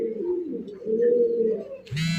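Local red desi pigeons give a low, rolling coo that swells and sustains for about two seconds, close by and alone, with a brief brighter rustle at the end.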